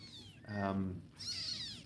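A kitten yells with two close, loud meows, the first lower and drawn out, the second higher and thinner, both short and clear.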